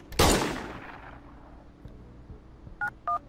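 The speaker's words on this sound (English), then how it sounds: "You want me to shoot him?" A single loud video-game gunshot cracks close up and fades into a short echoing tail, followed by two brief electronic beeps.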